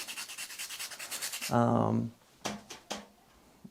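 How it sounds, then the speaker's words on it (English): A stick of charcoal is rubbed on a piece of sandpaper to sharpen it: a quick series of close, rhythmic scratchy strokes, then a louder rub and a few separate scrapes, alone without talk. "put the piece of sandpaper on a table, and you're just gonna want to rub a piece of charcoal"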